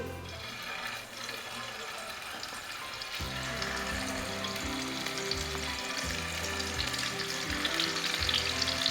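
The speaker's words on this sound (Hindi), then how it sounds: "इसको हम हल्का हल्का फ्राई कर लेंगे" Shaped gola kababs fry lightly in hot oil with a steady, close sizzle. The sizzle grows louder and denser partway through, probably as more pieces go into the pan.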